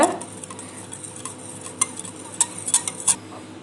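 Curd and eggs beaten together with a whisk in a bowl while making a simple home cake, a soft rhythmic stirring with sharper metallic taps of the whisk against the bowl, close and unaccompanied.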